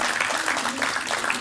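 A studio audience applauds a pair of contestants from the Qazax region on a televised Azerbaijani folk poetry duel show, with dense, steady clapping sustained throughout and no pauses.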